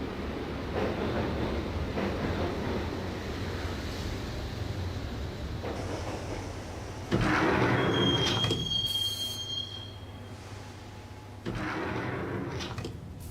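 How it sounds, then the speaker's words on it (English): A subway train ride in the video game Max Payne: a steady rumbling rail roar, a sharp rising wheel squeal midway, and clattering surges as the carriage rolls on, with no talk. "But the train doors had already shut behind me, and I was in for the ride."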